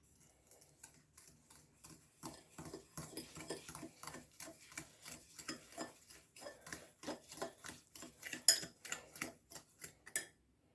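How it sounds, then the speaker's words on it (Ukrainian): A fork beats eggs with sugar rapidly against a bowl in a steady clicking rhythm, close and fairly quiet, with no voices. "Блендером, вилкою розбиваємо їх, змішуємо їх до однорідної суміші, щоб цукор розчинився."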